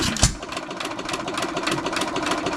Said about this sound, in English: We got 3 engines started today.